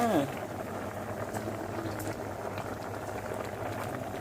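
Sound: fish curry with pickled bamboo shoots boiling in a pot

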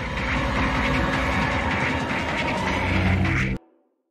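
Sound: train riding along tracks in video game Project Playtime

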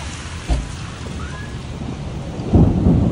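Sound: thunder and rain

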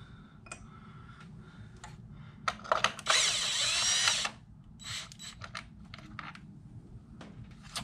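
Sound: power drill removing bolts from Kia Optima valve cover

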